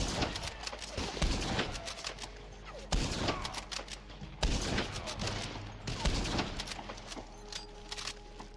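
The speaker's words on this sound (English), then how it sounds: "like coming this way and shooting" Gunshots in the Red Dead Online video game, a rapid series of sharp cracks with several loud bursts spread across the clip over a steady background hum.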